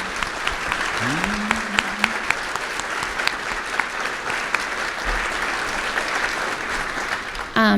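At a state bar annual meeting convocation, a large hall audience gives sustained, even applause for the staff, steady crowded clapping throughout with a brief voice underneath early on.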